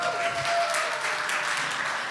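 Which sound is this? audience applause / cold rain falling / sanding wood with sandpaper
audience applause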